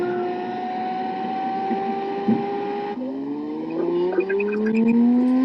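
A car engine revving loudly like a race car drones at steady high revs, then shifts and rises in pitch, close and sustained with a few small knocks over it.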